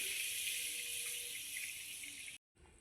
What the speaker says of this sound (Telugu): వీటిని అయితే నీళ్ళు పోసుకొని నీట్గా కడుక్కోవాలి